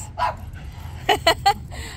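Small dog giving a few short yips and barks close by, three quick bursts near the end, with quiet indoor background.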